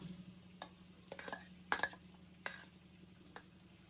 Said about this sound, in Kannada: ಈಗ ಅನ್ನ ಹಾಕಿ ಕಲಸುವ ಕಾರ್ಯಕ್ರಮ.